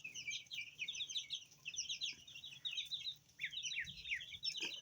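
Eight-day-old ducklings, Sasso chicks and white chicks peeping at night, a dense, continuous chorus of soft high cheeps from a close brood, fairly quiet overall.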